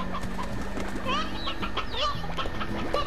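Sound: chicken clucking in Slime Rancher video game

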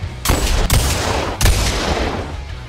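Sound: gunfire from a gun in the VR video game Boneworks

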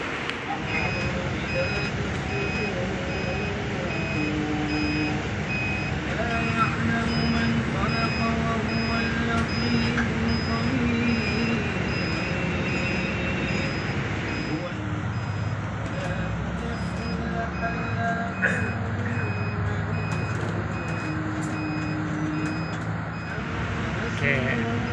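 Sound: bus with reversing beeps

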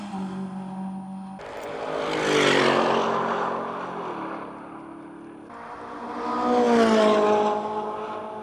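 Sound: airplane coming in to land

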